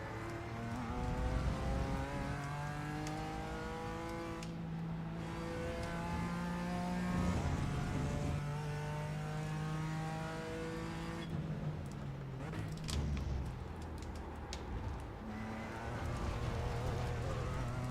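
A BMW M4 GT4 race car engine in iRacing at Road America drones and revs steadily, with gear changes and pitch rising and falling through corners, continuous and prominent with little speech.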